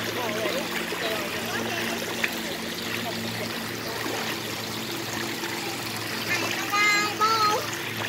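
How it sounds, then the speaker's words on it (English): Creek water flowing outdoors in summer, a steady soft rush and trickle filling the background while children chatter and call out over it. "We are at the creek"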